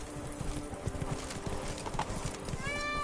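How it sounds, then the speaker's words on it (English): Horse hooves clip-clop at a gallop in The Witcher 3 (Blood and Wine, Toussaint), a quick, rhythmic run of close hoofbeats that ends with a whinny as the horse is reined in. "Whoa there, Roach."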